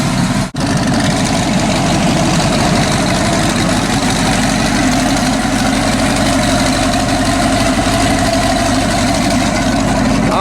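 A twin turbo Ram 1500 truck engine idles close by, a deep, steady rumble that holds even and continuous throughout with no clear revving and no talking.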